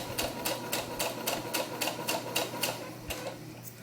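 A sewing machine stitches a doll tunic in a steady run of about a dozen sharp, evenly spaced mechanical clacks over a faint low motor hum, close by and with no talk.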